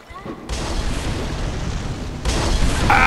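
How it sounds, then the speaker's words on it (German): Explosions in the video game Bloodborne: sudden loud broadband bursts that jump to a sustained roaring rumble, then a second surge near the end, with a brief tonal effect at the close. "Die explodieren doch."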